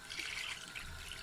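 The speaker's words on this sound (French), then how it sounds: "je mets le lait de coco jusqu'à couvrir" Coconut milk is poured into a pot over fish and crab for a Mahoran stew, making a faint, continuous liquid trickle that sounds close by.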